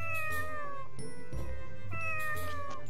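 Cat meows from the video game Tales of the Abyss, a repeating sequence of drawn-out, falling mews, several in a row, loud and close over background game music with no talk.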